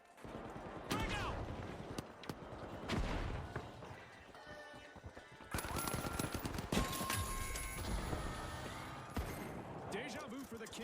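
Rapid bursts of automatic gunfire and explosions in a team-based shooter video game, loud and busy throughout, with in-game voice callouts and commentary over the firing.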